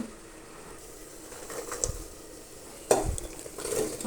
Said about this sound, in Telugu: ఇప్పుడు దీంట్లో మనము ఆలు అండ్ బఠానీ రెండు యాడ్ చేసేసుకుందాము. ఇది బఠానీ నేను ఉడికించుకోవాలి, డైరెక్ట్ పచ్చిదే వేసేస్తున్నా.